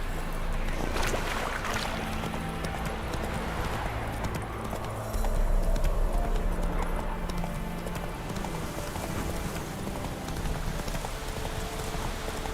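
A horse gallops in the video game The Witcher 3: Wild Hunt, its hooves clip-clopping in a steady rhythm under a wash of rain-like ambient noise. The sound is moderately faint and continues for several seconds, with brief vocal sounds in the background.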